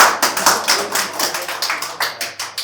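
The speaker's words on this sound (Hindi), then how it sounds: "एक बार खुद के लिए तालियां बजा दीजिए।" Audience clapping at a poetry recital, a steady run of crisp rhythmic claps at a brisk, even pace, fairly close and loud, with no talking over it.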